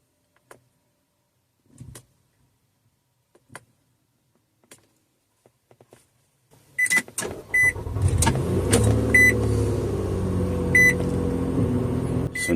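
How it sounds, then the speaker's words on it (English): A Nissan with a dead key fob battery is push-button started: a few faint ticks and clicks over quiet, then the engine turns over and settles into a loud, steady idle with a chime or beep pattern above it. "So now the car is starting, even though without a battery"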